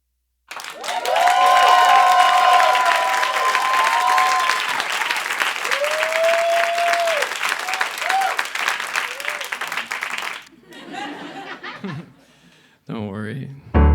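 A comedy club audience in Los Angeles bursts into loud, sustained applause with whoops and laughter for about ten seconds before it dies away and a few brief sounds follow.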